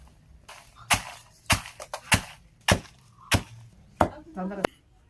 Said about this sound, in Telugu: జీలకర్ర, పల్లీలు, ఎండుమిరపకాయలు, కరివేపాకు ముందుగా దంచుకోవాలి.